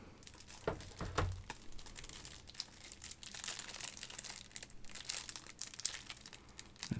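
Crinkling and tearing of a plastic wrapper as an Elysium trading card pack is opened by its tab, close crackles with sharper rips building toward the end, no talking.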